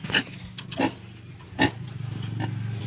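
Pigs, including a sow, grunt and squeal a few times nearby, with short bursts separated by pauses over a low background drone.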